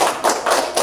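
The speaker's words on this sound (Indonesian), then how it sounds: "Tepuk tangan untuk kelompok mawar" A school class claps for a student group in a few loud, rhythmic bursts, the hand claps close together and brief.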